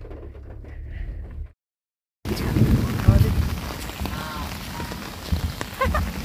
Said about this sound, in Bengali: আর হচ্ছে তুমুল বৃষ্টি।